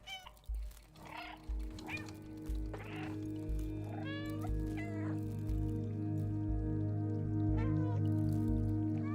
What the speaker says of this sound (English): Do I need to meow right here?